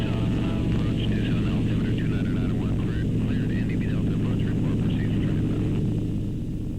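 A steady, loud drone of a biplane engine mixed with rushing wind during flight over Tucson, constant and enveloping, with a voice talking faintly underneath.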